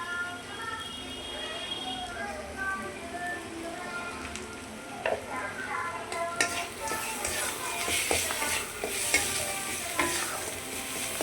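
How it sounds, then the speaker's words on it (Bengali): Spice paste with Kashmiri chili powder and hot chili powder fries in a pan, a steady sizzle with scraping stir strokes that grows louder and busier in the second half, with faint voice in the background. "এবার মশলাটা একটু ভাজা ভাজা হবে।"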